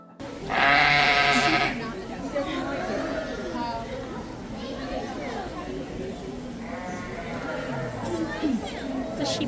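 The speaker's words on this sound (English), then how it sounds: "Are you waving at the sheep?" Sheep at the New York Sheep & Wool festival let out a loud, close bleat early on, followed by fainter bleats amid steady crowd chatter and nearby conversation.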